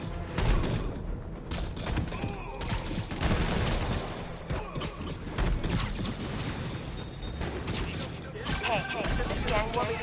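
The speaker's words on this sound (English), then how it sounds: "Rockets! They got rockets!" Rockets fire in a Spider-Man Remastered game fight. Dense bursts, booms and mechanical clatter come in waves and stay loud the whole time, with voices shouting over the chaos.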